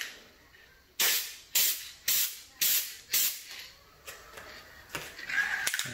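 A ColorRite spray paint can fires a series of short, forceful hissing bursts, about five evenly spaced sprays that trail off, followed by a few softer, shorter spurts, close and alone.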